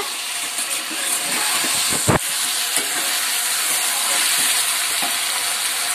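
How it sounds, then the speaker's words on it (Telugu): Tomato curry sizzles steadily in a pan as turmeric is stirred in, a constant frying hiss broken by a sharp spoon scrape and a few soft stirring knocks. "పసుపు బాగా కలుపుకోవాలి నీళ్ళకి పట్టేలాగా."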